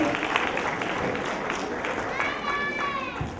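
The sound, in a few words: applause for the participants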